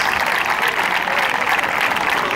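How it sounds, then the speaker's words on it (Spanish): Applause for the sporting director at a football club's season presentation, a dense, loud crowd clapping steadily from start to finish. "Un fuerte aplauso para él, para el director deportivo, para Luis."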